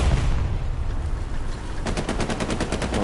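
Automatic gunfire in the World War II shooter Hell Let Loose, a steady rapid burst of shots in the second half over constant loud battlefield noise.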